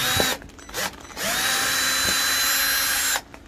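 A power drill works at a broken hook: short bursts of whining, then a long, loud, steady run before it cuts off, with no talking.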